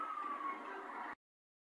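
City siren from an emergency vehicle wailing with a steady falling tone over traffic noise for about a second before cutting off abruptly.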